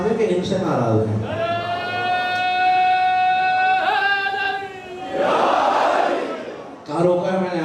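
At a Muharram majlis in a Sahiwal imambargah, a long sustained lead chant rings out, followed by a loud massed shout from the congregation and a fresh lead call, all close and reverberant.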